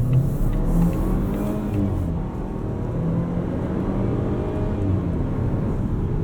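A 2019 Volvo XC40 T5 AWD R-Design pulls away under hard acceleration, its turbocharged engine revving and rising in a steady drone heard from inside the cabin, with road rumble underneath and no talk.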